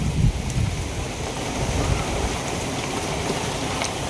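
Strong wind buffeting the microphone beside a main road under a darkening sky, a dense continuous roar that stays loud and steady throughout, with no speech.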